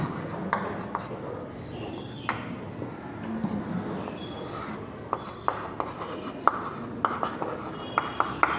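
Pen writing coordinates on paper while solving a math exercise, scattered scratchy strokes and sharp taps at close range, with faint background noise.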